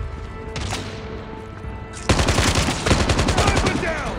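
Rapid automatic gunfire and single shots from Call of Duty Mobile, a dense loud burst of repeated cracks starting midway after a quieter stretch of game ambience.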